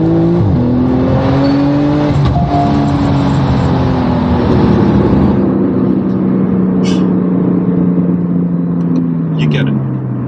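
A Stage 2 tuned Porsche 911 Turbo with 620 horsepower accelerates hard, its loud engine rising in pitch through shifts and then settling into a steady drone, with a few brief sharp noises near the end.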